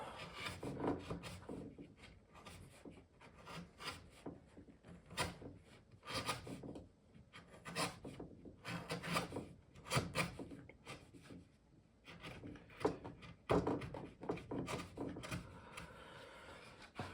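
Hand chisel paring wood on the upper frame of an expanding oval table, close by: a steady run of short scraping, rasping strokes with brief pauses between them.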